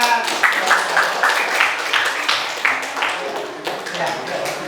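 Applause from a classroom audience after a student presentation, a steady patter of many hands clapping at moderate loudness for several seconds, with some talking mixed in.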